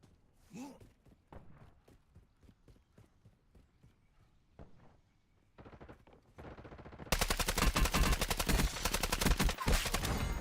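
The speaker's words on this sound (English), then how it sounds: "Taking fire!" Gunfire in a video game, beginning with sparse scattered shots and clattering, then shifting into a loud, continuous stretch of rapid automatic fire over the final few seconds.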